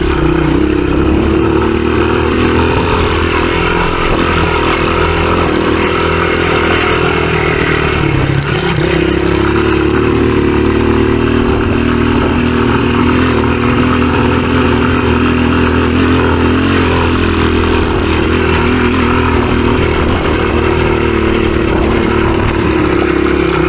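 A 1983 Honda XR200R dirt bike runs a hard enduro trail loop, its engine droning loud and constant from close up, with small shifts in pitch and clattering over rough ground.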